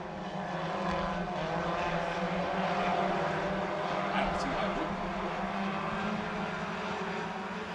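Late model race cars roar around the Crawford County Speedway dirt oval in a continuous, dense engine drone with shifting revs, and a voice may run underneath.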